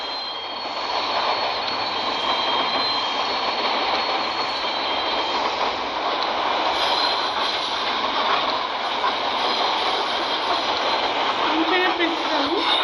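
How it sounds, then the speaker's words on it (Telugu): A train runs alongside on the neighbouring track in the game Indian Train Simulator, a steady broadband rumble and rail hiss holding evenly throughout with faint squeals near the end. "ఇప్పుడు పక్కన ఇంకో ట్రైన్ ఉంది"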